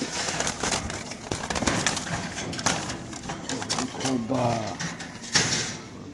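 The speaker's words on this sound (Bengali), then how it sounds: "খুব চঞ্চল কবুতর" Several pigeons, racer birds at a loft sale, coo and shuffle in their cages in a busy, echoing setting, with soft calls and flapping bursts over a steady room bed.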